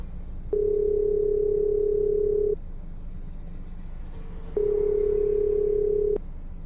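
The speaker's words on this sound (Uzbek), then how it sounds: "Ularga bog'lanib ko'ramiz. Bu 3-marta telefon qilishimiz 3-tashkilotga." A steady telephone tone rings out twice, each long buzz lasting about two seconds, separated by a pause of quiet line hiss.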